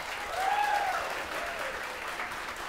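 Church congregation clapping after the preacher's prompt, a steady wash of applause from a crowded room, with a brief whistle-like tone near the start.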